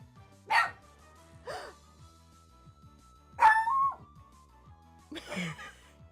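A dog barks in four sharp, separate bursts with pauses between them and a low growl running underneath, close by, with no talking.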